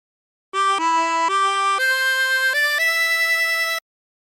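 Short phrase from Yellow Rose of Texas on a 16-hole tremolo harmonica, a handful of wavering reedy notes stepping up in pitch over about three seconds, alone and close.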